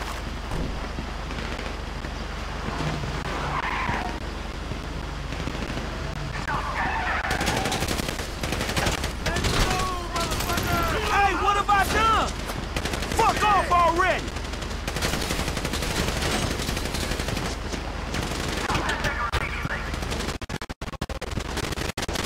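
Heavy gunfire erupts in GTA during a bank robbery getaway, bursts of automatic shots crackling loudly alongside tire skids and vehicle noise, with shouting voices in between.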